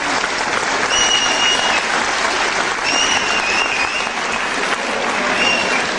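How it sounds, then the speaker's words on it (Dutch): Steady, dense crowd applause fills the hall after a kickboxing fight, loud and continuous throughout with a few faint whistles riding over the clapping. "Een applaus."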